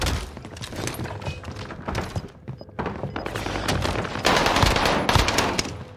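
Rapid automatic gunfire and bursts of shots in the Call of Duty Rebirth Island battle royale, dense and loud throughout, with layered weapon fire from several directions and no talk.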